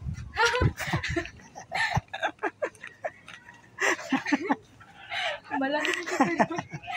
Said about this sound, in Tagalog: Ito, kakaibang manok, oh.